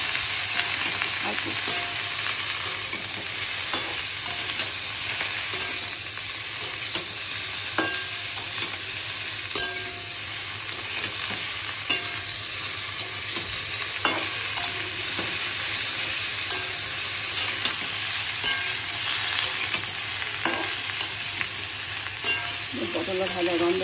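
Pointed gourd, drumstick and pumpkin stalks fry with coriander and cumin in a pan, an even close sizzle punctuated by repeated sharp stirring scrapes and clinks, with no voices.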